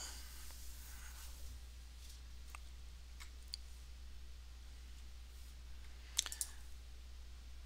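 Computer mouse clicks while a file is downloaded in online accounting software, a few faint, sharp clicks scattered over a quiet room hum, with a brief quick cluster near the end.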